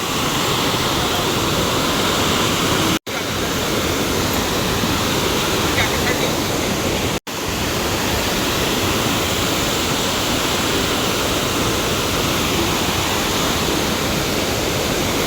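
Water rushes loudly and continuously at a scenic spot, a dense waterfall-like roar that fills the whole scene, broken only by two brief gaps.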